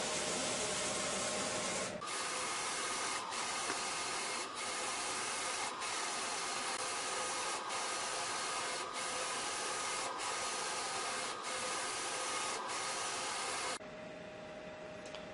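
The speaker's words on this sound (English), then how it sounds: "we just sent the job over to the VersaCam, and it's gonna print our design with the crop marks" Roland VersaCam print-and-cut machine printing a design with crop marks, a steady loud rushing whir with regular faint clicks as the print carriage passes, easing to a quieter hum near the end.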